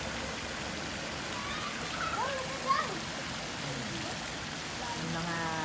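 Water from fountains at a children's swimming pool rushes and splashes in a steady, broad wash, while a voice speaks faintly underneath.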